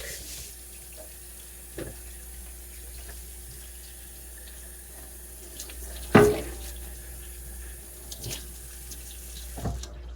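Water from a kitchen tap runs steadily into a sink while something is washed, with a few clunks and one louder knock midway; no voices.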